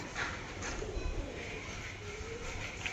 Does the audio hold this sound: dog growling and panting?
no